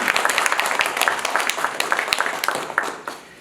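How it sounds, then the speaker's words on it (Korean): Applause for the Mugunghwa (rose of Sharon) at a talk on sustainable development, a spread of claps sounding fairly close, with sharper single claps standing out against a steady patter for a few seconds. "꽃 중의 왕 무궁화 박수 한번 부탁드리겠습니다"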